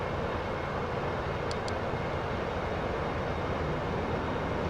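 Aircraft engine droning in the Prepar3d flight simulator video game, a loud, constant, broadband roar holding steady throughout, no voices.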